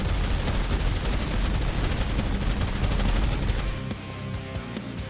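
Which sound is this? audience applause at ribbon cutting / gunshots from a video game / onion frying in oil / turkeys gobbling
gunshots from a video game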